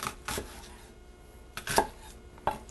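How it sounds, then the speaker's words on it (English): A knife chops through an onion on a cutting board in a few separate, crisp cuts spread across the stretch, with quiet pauses between them and no talking. "I cut about 3/4 of the way along the onion, like so"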